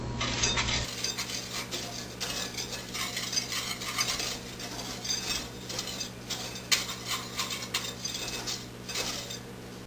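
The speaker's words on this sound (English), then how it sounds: "We will incorporate them together with the whisk." Whisk stirring sugar and cornstarch in a bowl, giving repeated close scraping and clinking strokes in an uneven rhythm for about ten seconds with no talk.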